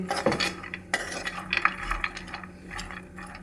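Mixed nuts roasting in a pan are stirred with a utensil, making irregular scraping, rattling and clinking against the metal, close and moderately loud.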